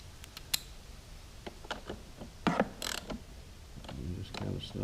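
Carburetor bolts on a Honda EU2200i generator are snugged down with a hand tool, making a run of close, small metallic clicks, ticks and ratcheting rattles with short pauses between them.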